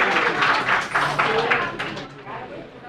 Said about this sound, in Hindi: चलिए इनके लिए हो जोरदार तालियां